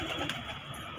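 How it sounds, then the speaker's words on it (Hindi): Wild pigeons gather on a home rooftop, giving a soft, low cooing murmur over a steady hiss of background noise, with a faint flutter partway through. "अब जंगली कबूतर अंदर जाने लगे हैं"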